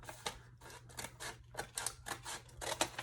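Scissors snip through a paper bag in a quick series of crisp, close cuts, a dozen or so quiet crunchy snips in irregular rhythm with no talking.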